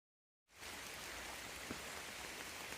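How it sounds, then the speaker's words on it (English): Rain falls steadily along the Appalachian Trail, a soft, even hiss that starts abruptly and carries on unbroken, with no one speaking. "It's been pretty much raining non-stop since we left"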